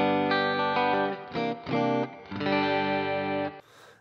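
Electric guitar through a Fractal FM3 MKII Turbo with medium spring reverb, distorted sustained chords and short bursts with brief gaps, ending in a fading reverb tail, played alone.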